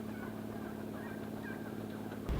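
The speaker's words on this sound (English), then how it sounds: "the sights and sounds of 300 birds roosting in about a half a dozen trees is pretty awesome" Hundreds of wild turkeys settling into a roost of about half a dozen trees in Colorado, heard as faint, distant clucks and calls over a steady low outdoor hum.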